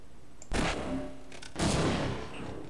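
A rocket launcher fires in the video game Half-Life, with two heavy, booming blasts about a second apart, each trailing off, loud and close against a constant game backdrop.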